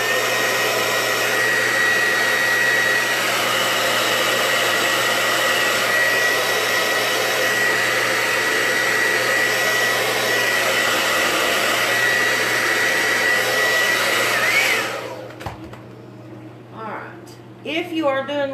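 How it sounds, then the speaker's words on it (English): A blow dryer dries layered paint on a Christmas craft piece, a loud, steady whirring roar that runs unbroken for about fifteen seconds, then cuts off as a voice begins talking. "Let's blow dry to make sure."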